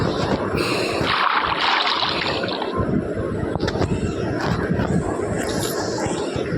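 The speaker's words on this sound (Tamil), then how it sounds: "தண்ணி வேறு நம்மளை அடிச்சிட்டு போகுது" Rushing water in a Minecraft world sweeps a player along, a steady broadband wash with gusty swells running unbroken throughout.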